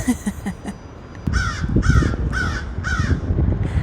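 Several crows caw in a run of four or five harsh, evenly spaced calls, fairly close and loud, after softer scattered sounds at the start.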